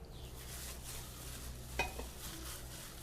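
Minced pork mixed with flour and ice-cold water is stirred and tossed in a bowl, giving a soft continuous wet rustle with one sharper clink partway through, quiet and close with no talking.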